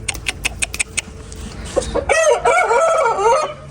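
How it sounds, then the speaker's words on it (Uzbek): A purebred Namangan-line rooster crows loudly and close by, one long drawn-out call after a series of sharp clucks and taps. "Toza xo'rozlar."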